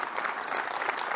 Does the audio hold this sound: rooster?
no